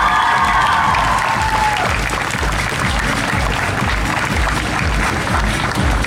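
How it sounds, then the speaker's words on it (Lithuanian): A large crowd at an outdoor town festival in Vilkaviškis claps steadily for the performers, a loud dense wash of applause that runs the whole time, with a fading musical tone at the start. "Jūsų plojimai"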